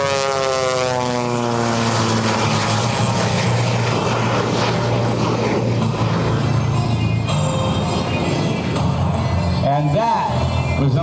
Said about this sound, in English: And that was an opportunity to hear just the piston engine on the front.